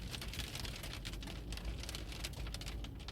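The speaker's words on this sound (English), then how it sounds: "this hail has just put me off a little bit." Hail pattering steadily on a car roof and windscreen during a driving lesson, a dense continuous drumming of small impacts close around the cabin with a low engine rumble underneath.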